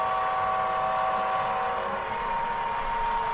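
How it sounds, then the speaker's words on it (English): An HO scale model tank train runs along a large layout, producing a steady, even rumble with a thin sustained whine on top, continuous and fairly close. "We'll see a couple of tank trains coming through here."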